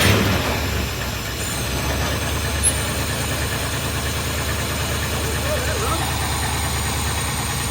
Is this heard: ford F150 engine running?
yes